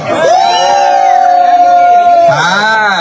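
A crowd cheers loudly, rising into one long sustained shout, then breaking into a second rising whoop at the end.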